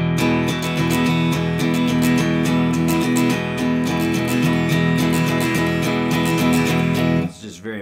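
An acoustic guitar strummed fast in an even, steady pattern without accents, so every stroke lands at the same loudness. The chords ring loud and close for several seconds, then stop abruptly.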